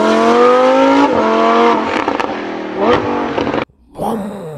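A Lamborghini Huracan STO's V10 engine fires up and revs hard, loud and close, rising and falling through several high-pitched pulls before cutting off abruptly, then barking briefly once more.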